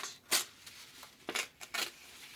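Paper rips by hand in several short, crisp tears spaced apart, close by in an otherwise quiet room.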